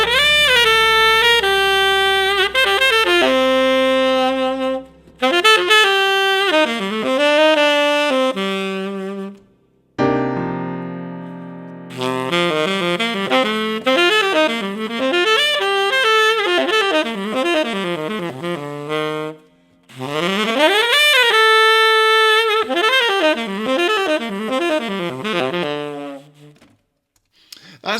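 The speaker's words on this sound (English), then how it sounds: "That's the sound of the Dorian minor" An improvised melodic line on the Dorian minor scale, a continuous flow of sustained, bright notes in phrases separated by brief pauses, played alone and loud.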